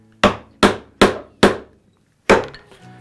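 A hammer pounds a chisel into wood while a lamp is being made: four sharp, evenly spaced, close knocks, a short pause, then a fifth blow, with no voices.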